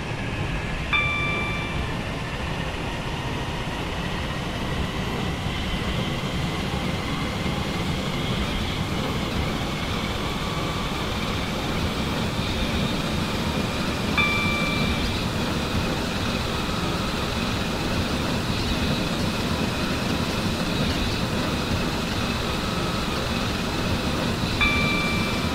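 Interior ride aboard a Stepford Connect train in Roblox SCR, a steady rumbling hum of the moving carriage with faint tonal whines that persist throughout, running loud and continuous with no talk.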